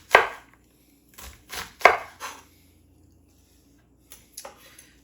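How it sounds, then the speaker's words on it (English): A knife chops through half an onion on a cutting board in a few crisp, separate strokes, loud and close with short pauses between them, no talking. "I don't know that we're going to use even all of this half of an onion. All right, maybe just 2 more chops."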